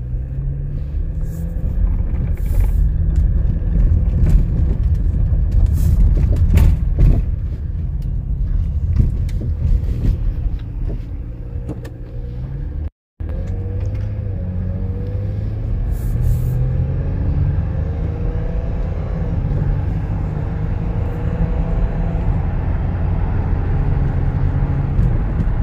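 A 2007 Toyota Camry with a 3.5L engine on a cold morning, starting up and then driving with a low, steady rumble. Brief louder sounds come early on, with a short dropout midway.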